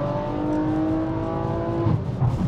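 Stage 2 tuned Audi RS5 engine revving hard under acceleration, a loud, sustained rising drone heard from inside the car, with a brief bump in intensity near the end.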